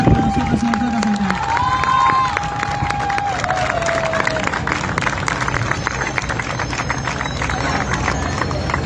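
A large crowd at an outdoor cultural protest event in Buenos Aires claps and cheers without a break. The sound is loud and continuous, with a whistling tone and shouting voices mixed into it.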